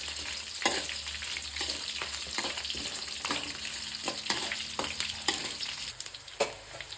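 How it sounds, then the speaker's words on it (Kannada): Crushed garlic, a whole bulb, sizzles steadily in a hot pan, with sharp intermittent scrapes and clacks from stirring cutting through the frying hiss. "ನೋಡಿ ಬೆಳ್ಳುಳ್ಳಿ ಎಲ್ಲ ಫ್ರೈ ಆಗಿದೆ."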